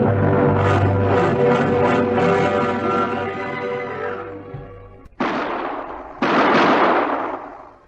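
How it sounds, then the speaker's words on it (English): Two loud gunshot effects from a 1950 crime radio drama, each a sharp broadband burst with a ringing tail, the second about a second after the first, following a stretch of dense background music. "I dropped after hearing the first shot."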